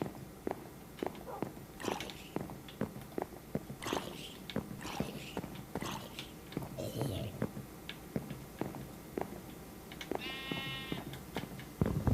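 Sheep bleat a few times in Minecraft amid frequent clicking and tapping sounds, with occasional game-like effects; no one speaks over it.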